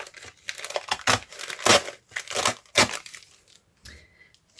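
Paper torn by hand to form a flap, several close, loud ripping and crinkling strokes in quick succession, then fading to quiet rustles.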